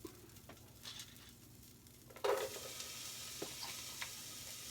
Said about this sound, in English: That's the sound you want to hear when those vegetables hit